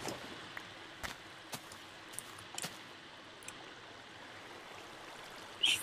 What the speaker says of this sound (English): Just flows right down the valley.